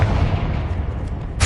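A Confringo fire spell from Hogwarts Legacy sounds as a loud, close, rumbling burst that roars continuously for over a second, then ends in a brief sharp crackle.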